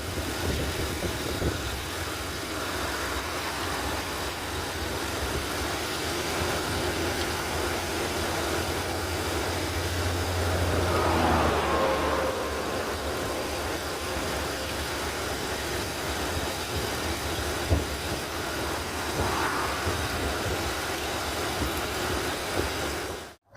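A mini truck, running somewhat sluggishly, cruises along the road, heard from inside the cab as a steady low engine drone with road and wind rumble, swelling slightly midway.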